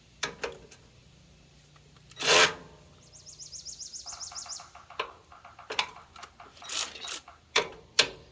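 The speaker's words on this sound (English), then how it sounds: "I'll tighten this from the bottom." Ratchet wrench tightening a bolt from below on a wood chipper's motor mount, a quick run of metallic clicks followed by slower ratcheting strokes, with a few sharp clanks and scrapes of tools close by.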